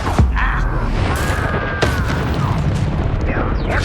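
Confringo explosion spell going off in the video game Hogwarts Legacy, sharp bursts and booms with whooshing magical sweeps layered over a dense, loud battle din.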